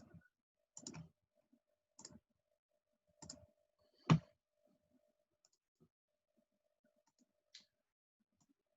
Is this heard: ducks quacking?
no